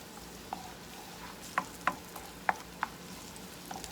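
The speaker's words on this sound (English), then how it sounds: "you can see that this is already starting to saute" Food sautés in olive oil in a pan, a soft low sizzle broken by several sharp clicks and taps from a utensil, spaced unevenly and heard up close.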